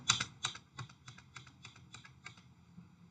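Fingers tap out a network switch command on a computer keyboard, about ten crisp, close keystrokes in an uneven rhythm, with a firmer final press like Enter, alone without speech.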